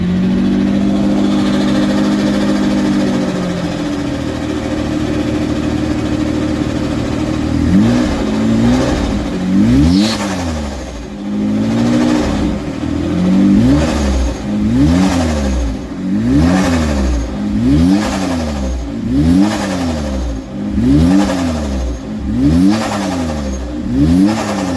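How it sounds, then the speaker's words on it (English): A revving engine fitted with a dump valve: a steady idle, then repeated rising and falling throttle blips with sharp releases in a regular rhythm, loud and close. "That dump valve sounds good."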